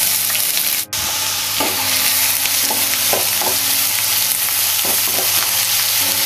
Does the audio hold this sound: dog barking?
no